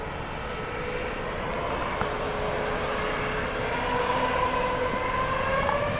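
A Southwest airliner takes off from runway 31 right at Dallas Love Field, its engines a steady, fairly loud roar that swells slightly toward the end, with a faint high whine running through it.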